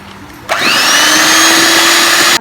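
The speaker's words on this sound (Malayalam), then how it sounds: "അത് കുറേശ്ശെ ആയിട്ട് നന്നായിട്ടൊന്ന് വീണ്ടും ബീറ്റ് ചെയ്തെടുക്കാം." An electric mixer beats butter with powdered sugar for a butterscotch cake. It switches on sharply after a brief quiet moment and then runs as a loud, steady motorized whine close up.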